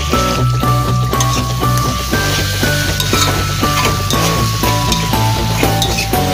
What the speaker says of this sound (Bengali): তো নুন আর হলুদ দিয়ে আমি এটাকে প্রথম ভালো করে সাঁতলে নেব।